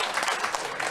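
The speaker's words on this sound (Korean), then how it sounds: "큰 박수 부탁드립니다." An audience at a school alumni year-end party breaks into a brief burst of dense clapping. It is close and busy, with no clear speech.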